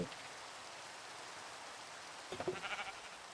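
Steady light rain hisses softly and evenly on a surface, faint and distant, with a brief burst of louder patter or bleating near the end.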